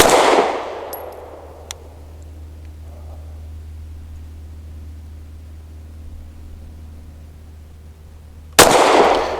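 Two sharp, loud pistol shots from a Springfield Armory HS Produkt Echelon at a shooting range, one at the start and one near the end, separated by a long quiet stretch with faint ambient noise and a small click.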